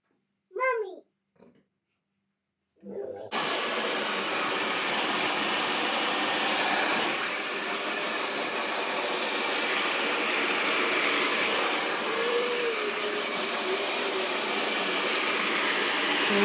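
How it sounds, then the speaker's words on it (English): A hair dryer blows steadily and loudly while a stylist dries a client's layered haircut straight in a salon. A brief vocal sound and a short pause come first, then the airflow roars without a break to the end. "You're blow drying nice and softly, not inconveniencing your client into the face with hot air."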